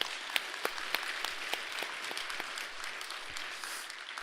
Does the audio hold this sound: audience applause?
yes